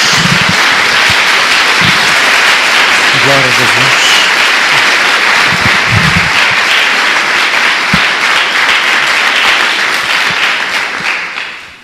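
A church congregation bursts into sustained, loud applause that fills the whole stretch, with a voice calling out over the clapping partway through.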